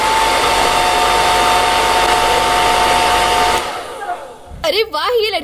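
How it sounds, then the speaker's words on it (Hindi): A hair dryer blows on hair with a steady, loud whirring roar for about three and a half seconds, then cuts off, and a voice begins speaking near the end. "बालों पर हेयर ड्रायर कर देती हूँ।"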